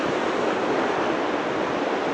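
Water surging and swirling along the rocky shore of Loch Assynt in Sutherland, Scotland, a steady close broadband rush of churning white water with wind, continuous and loud throughout, no voices.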